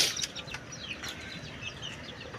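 Chickens cluck softly in a bamboo coop, a few quick, scattered calls and chirps over a low rustling background, fairly faint and without talk.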